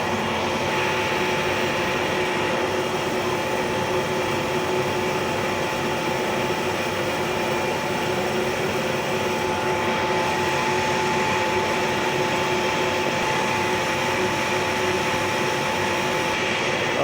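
Steady whooshing roar of an Ideal Concord Super Series 4 gas boiler fan running during a light attempt, constant broadband noise with a faint tonal whine, close, unchanging throughout, no talking.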